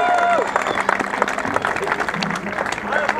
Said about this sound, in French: je pense qu'on va pouvoir les applaudir